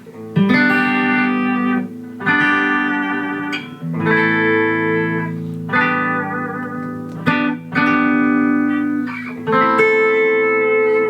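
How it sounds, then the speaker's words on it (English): A Fender Stratocaster Highway One electric guitar rings out in a clean, straight tone, with loud chords strummed and left to sustain in a steady rhythm, about one every two seconds, and no voices. "We'll just play through them with real straight tones here."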